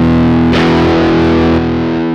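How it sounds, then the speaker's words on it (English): Electric guitar through a Tech 21 Fly Rig 5 v2 pedal, a sustained chord that jumps to a louder, grittier distorted boost about halfway in, then rings out with no talking. "If you want a volume boost to stand out, or if you want more drive or distortion."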